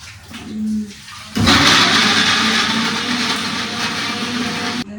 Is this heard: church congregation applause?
no